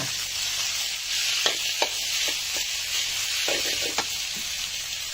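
Sliced ingredients go into a hot frying pan, giving a steady, moderately quiet sizzle with a few soft clinks and stirring taps scattered through it, and no voices.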